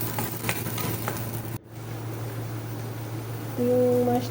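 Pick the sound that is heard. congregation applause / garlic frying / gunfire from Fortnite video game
garlic frying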